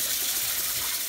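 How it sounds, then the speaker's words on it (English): Kitchen tap water running steadily to rinse a dish, a constant hissing gush at moderate level with no voices over it. "just turn on the water like a normal person and"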